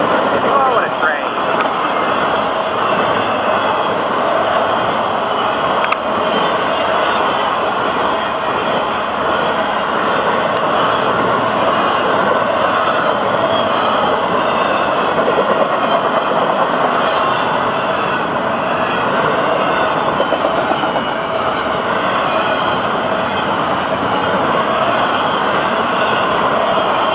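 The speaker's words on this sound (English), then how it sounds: "Oh, what a train" A double-stack freight train rumbles past continuously with a steady, heavy roar and clatter of rail cars, loud and close throughout.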